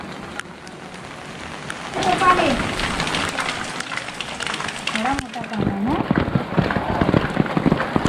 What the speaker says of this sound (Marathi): आणि पाऊस धरलाय किती.